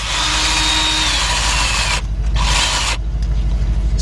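A power tool whirs steadily while backing out two 10mm bolts holding the idle air control valve on a Lincoln LS, its close, loud motor whine briefly dropping and resuming as it goes.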